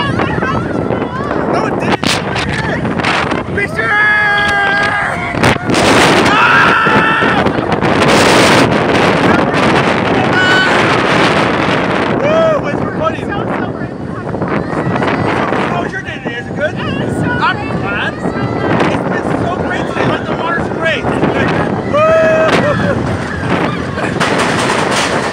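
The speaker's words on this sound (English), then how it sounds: "It was windy though, it's windy." Strong wind buffets the microphone on a boat at the beach, roaring in loud, uneven gusts throughout while people talk and call out over it.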